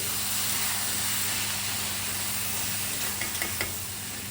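Goruchikkudu (cluster bean) curry fries in a pan with a constant dense sizzle and hiss over a low hum. A few light scraping taps from stirring are heard near the end. No one speaks.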